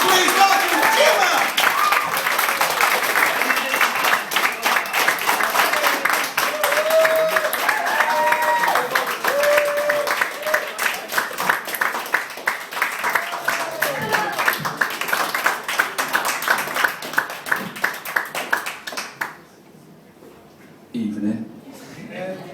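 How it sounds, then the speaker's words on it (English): Audience at a comedy club in Bath cheering and applauding a stand-up act's introduction, a loud sustained burst of clapping and whoops that tapers into scattered claps and brief quiet near the end. "cheering"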